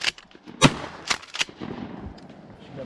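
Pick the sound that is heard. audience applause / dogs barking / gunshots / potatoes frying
gunshots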